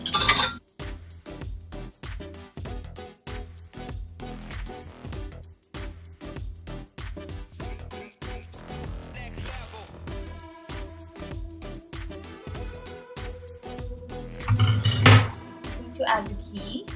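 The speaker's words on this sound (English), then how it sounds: "I'm just gonna whisk this first" Ajwain and salt are whisked in a bowl for papdi dough, a quick, steady metallic ticking and scraping that runs throughout, ending with a louder clatter.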